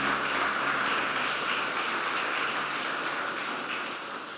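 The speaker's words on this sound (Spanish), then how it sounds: "Denle un aplauso al Señor." A church congregation applauds steadily, a dense wash of clapping that holds for several seconds before easing slightly.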